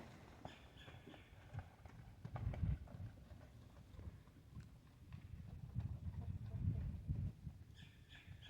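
Horse hooves clip-clop on the ground outdoors, a faint, irregular run of soft dull thuds that swells and fades, with occasional bird chirps and low background noise.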